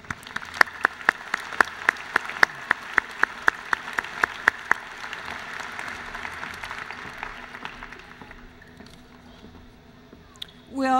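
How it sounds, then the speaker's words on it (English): Applause from a commencement crowd honoring graduate students, a dense steady patter of many hands with sharper individual claps, fading out toward the end before a voice begins. "Let's applaud the graduate students."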